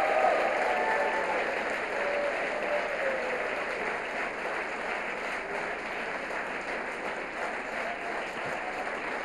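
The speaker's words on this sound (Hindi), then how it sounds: "इसमें तो ताली बजाओ यार" An audience at a large conference applauds a speech, a dense, steady wash of clapping from many hands that lasts throughout and fades slightly toward the end.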